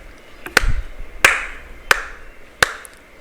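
Four sharp hand claps ring out in a quiet room, arriving in two pairs of two, each crisp and close with a short decay.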